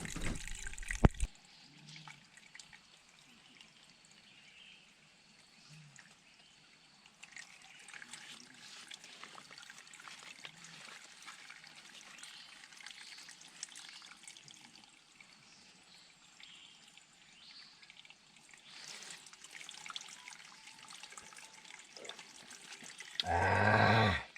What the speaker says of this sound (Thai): ดินเลยนะครับน้ำธรรมชาติครับ โอ้มันออกจากรูนะครับ